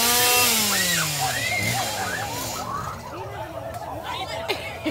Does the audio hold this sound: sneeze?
no